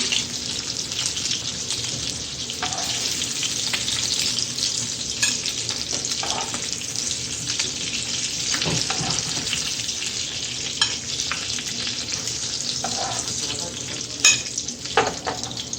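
Fish frying in hot oil in a home kitchen, a steady dense sizzle close by with occasional stirring and light clinks of tongs, no voices.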